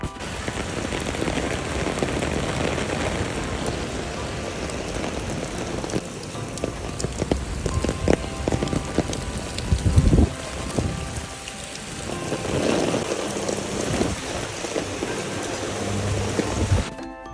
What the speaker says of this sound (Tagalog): ito nga pala yung pagpuhos ng ulan while naglalakad kami